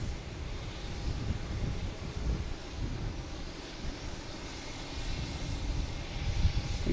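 A JetBlue Airbus A321 arriving from San Francisco at Boston Logan Airport gives a steady, broad engine roar with deep low rumble, heard at a distance and holding constant without speech.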